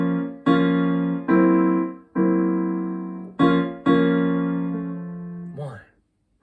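A choir rehearsal sings sustained chords in B flat minor, several held blocks with clean attacks and brief breaks, the last chord sliding and fading out.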